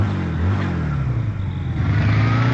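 A motorbike engine revs loud and close, its droning pitch rising and falling as it pulls away, with no talking.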